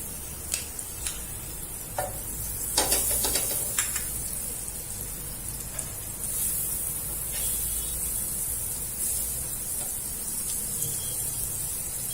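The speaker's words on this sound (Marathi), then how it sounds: "तवा तापलेला आहे त्याच्यावरती आपण आता बटर टाकूया" A steady, bright sizzle of butter melting on a hot griddle continues throughout, with occasional scraping and ticking sounds; no voices.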